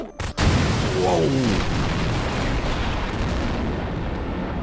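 A nuke detonates in the video game Poppy Playtime, opening with a sharp blast and then a loud, sustained roaring rumble that fills the rest of the clip, with a voice briefly heard over it.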